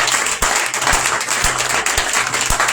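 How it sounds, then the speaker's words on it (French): Church congregation applauding and clapping in honour of fathers during an evening Yom Kippur service, a steady dense wash of claps with a few sharper slaps, sustained and fairly loud throughout. "Est-ce qu'on peut acclamer pour nos pères?"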